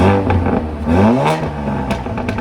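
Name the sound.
modified Audi S3 engine revving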